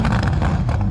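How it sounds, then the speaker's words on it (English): A Ferrari SF90 engine revs in a short, loud, close burst of deep continuous roar at a steady high level, with no talking. "what I'm going to do is rev up this Ferrari again"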